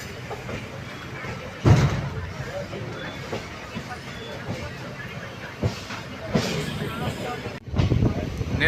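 A meter gauge train leaves Junagadh junction, heard from on board as a low, rolling rumble with occasional louder jolts, and people talk over it.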